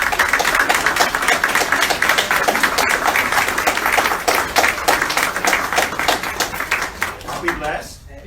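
A church congregation claps steadily and enthusiastically for several seconds, dense and loud, tapering off at the end.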